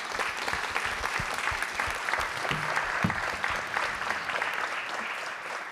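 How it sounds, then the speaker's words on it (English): Audience applause for the panelists at a European Year of Youth 2022 apprenticeship event, steady dense clapping across the room at an even level throughout, with no voices over it. "And please join me in a round of applause for our panelists."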